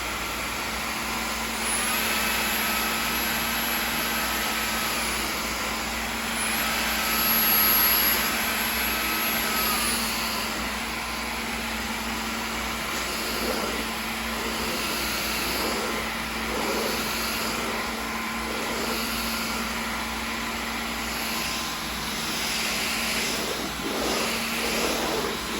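A Dyson cordless stick vacuum runs continuously in auto mode, a steady high whine and airy motor drone close by, with slight swells as it sucks up debris.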